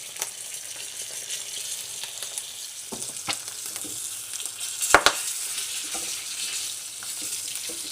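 Bacon frying in a pan alongside eggs, a steady close sizzle with scraping stirs and a couple of sharp utensil knocks midway, no talk.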